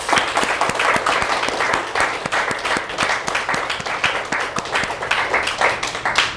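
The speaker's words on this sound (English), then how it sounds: "So another big round of applause." Audience applause at a publishing professionals' book show, many hands clapping in a brisk, dense patter that swells and holds steady, fairly close.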